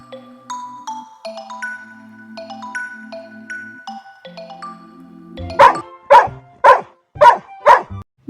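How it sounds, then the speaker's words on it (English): A dog barks five times in quick, loud succession near the end, following a stretch of soft melodic chime-like tones that play alone beforehand. "Dog."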